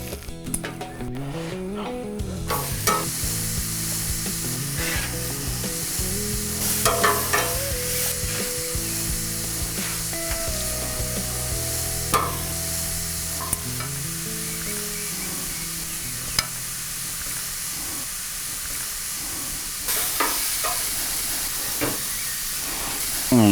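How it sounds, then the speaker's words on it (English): Pork neck sizzling and frying on a barbecue grill, a steady dense hiss with crackles and occasional stirring or clanks, close and continuous for the whole stretch with no talking. "Definitely time to start grilling the meat"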